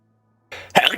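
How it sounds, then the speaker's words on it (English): A single short, sharp sneeze bursts out after a moment of silence, close and fairly loud, with a quick breathy intake just before it. "I gotta sneeze."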